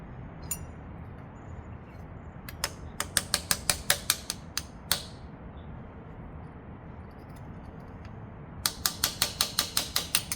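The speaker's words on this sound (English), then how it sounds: "A punch is so that you can unlock this collar right here." Rapid metallic hammer strikes on a punch unlocking a Honda Accord coilover collar ring out in quick bursts, a pause between them, over a steady low background rumble.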